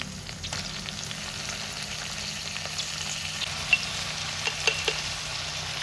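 Ginger garlic paste fries in a hot pan with a steady, moderate sizzle, joined near the end by a few sharper crackles and spatters.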